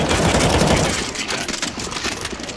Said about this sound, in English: I'm getting ready to use machine gun.